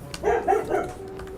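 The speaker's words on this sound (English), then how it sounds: "That's a dog." A dog gives three quick, close barks in a row, then trails off into a faint whine.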